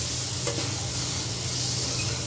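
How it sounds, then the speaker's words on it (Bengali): Rohu fish curry is stirred in a hot pan, giving a steady, close sizzle with soft scraping as the spoon moves through the sauce, with no talking. "নাড়াচাড়া করে দিচ্ছি বন্ধুরা।"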